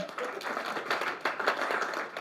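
A small group clapping during a coffee stop on a Saturday morning group bike ride, a brief soft patter of hands lasting a couple of seconds at moderate distance.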